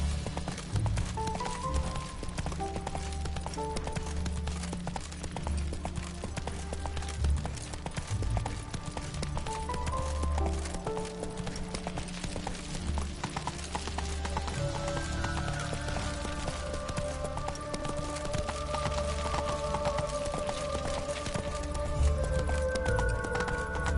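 Horse hooves clip-clop steadily in The Witcher 3, galloping along under a continuous bed of game music, fairly soft and even throughout.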